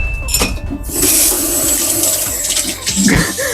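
Water splashes and gushes steadily into a cooking pot in a kitchen, loud and close, after a short clatter at the start, continuing for a few seconds with no talk.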